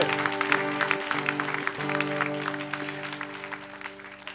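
Clapping from an audience patters steadily and slowly fades over a few seconds, set against a sustained musical drone.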